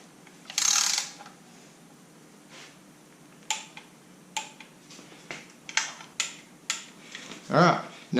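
A ratchet wrench clicks in short bursts as oil pan bolts are torque-checked one after another on an LS engine swap, a steady series of separate ratcheting strokes spread through the quiet, with no talking.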